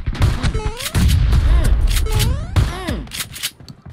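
Loud, close shotgun blasts ring out in a mobile battle-royale shooter, several booming shots with ringing tails mixed with other game effects and a voice talking over them.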